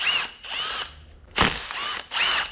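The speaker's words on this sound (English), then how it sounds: "Now we've got to unbolt this whole rotating assembly in here. So we're going to start these 2 top bolts" Ratchet wrench clicking in short repeated bursts, close and fairly loud, as bolts come out of a tractor engine's rotating assembly during a teardown, with a sharper metallic clank partway through.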